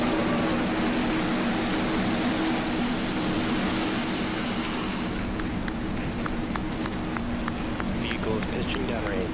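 A rocket's liftoff and ascent, a loud, steady broadband roar that fills the whole stretch without letting up, with faint crackling pops rising through it in the later part.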